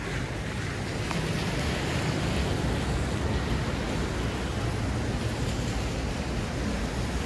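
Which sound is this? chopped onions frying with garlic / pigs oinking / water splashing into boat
water splashing into boat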